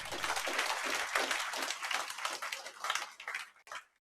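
A short, dense round of clapping from a classroom audience honoring a student, steady for a few seconds before thinning out and stopping.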